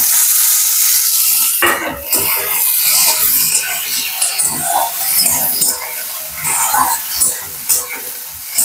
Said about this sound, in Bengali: টমেটো কুচিটা দিয়ে দেবো